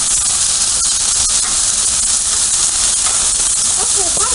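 Scallops and shrimp sear on a hot Blackstone flat-top griddle, giving off a loud, steady sizzling hiss that fills the whole stretch, with a few faint clicks of utensils near the end.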